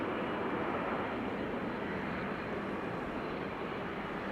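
A Boeing 777 at Amsterdam Schiphol Airport produces a steady, distant jet-engine roar that holds evenly throughout, with no voices.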